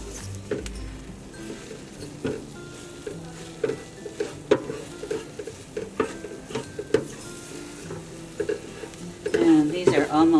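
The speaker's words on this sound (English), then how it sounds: "So you can use your wooden spoon to go around the rim and the middle to cook your eggs." Eggs cook in a mini fry pan while a wooden spoon scrapes around the rim and middle in soft, irregular taps and strokes over a faint sizzle, and a voice talks throughout.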